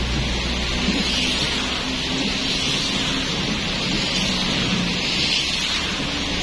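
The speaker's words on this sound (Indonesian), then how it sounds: "Wow, ini hujan ya." Morning rain in Manado, a steady broadband hiss on a car with a window opened, constant and even throughout with no voices.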